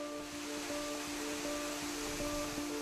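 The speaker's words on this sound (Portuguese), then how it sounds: "a cachoeira do Canyon cresce, aparece e desaba no Mar de Minas feito torneira aberta" A canyon waterfall pours into the low-water reservoir of Mar de Minas, giving a steady, broad rushing roar at moderate distance, with faint tonal hum lines running beneath and a brief louder bump at the end.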